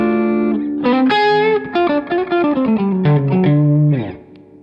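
An electric guitar plays through a Tubesteader Lightkeeper Dumble-style tube preamp with the deep switch on, giving a loud lick of sustained and quick notes with light drive and a fading final ring.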